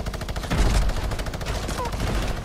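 AK rifle gunfire in a video game, a rapid regular burst of automatic shots running continuously and loudly up close, with faint voices mixed underneath.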